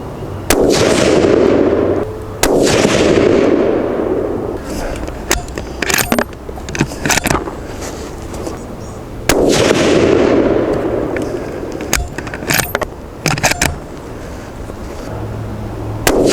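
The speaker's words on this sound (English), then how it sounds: "I'm gonna shoot our second batch of Zmaxes now" Rifle shots from a TC Compass firing Zmax ammunition outdoors, two loud blasts roughly seven seconds apart, each followed by a long rumbling decay and scattered clicks of handling between them.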